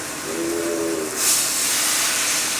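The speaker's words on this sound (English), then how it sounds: "using my spatula, I'm going to start skin side down right into the pan" Skin-side-down salmon fillet searing in a hot pan gives a steady, loud hiss that swells into a stronger sizzle partway through, close up and with no talking.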